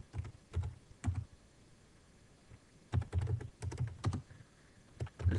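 Keystrokes on a computer keyboard entering an IP address, in quick bursts of several taps separated by short pauses, close and fairly quiet with no talking.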